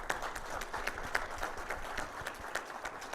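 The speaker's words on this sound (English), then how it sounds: "a big round of applause" An audience at a Tasmanian forum claps in a steady, fairly quiet round of applause that runs through the whole stretch with no voices over it.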